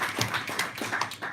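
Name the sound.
audience applause for the moderator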